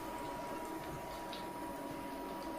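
Chicken paneer balls deep frying in hot oil, a faint, steady bubbling sizzle held throughout with no breaks.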